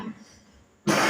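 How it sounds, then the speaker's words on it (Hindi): A single short cough from a man lecturing on physics, a sharp burst right at the end after a near-silent pause. "थोड़ा तेज बोलते खांसी आ जाती है"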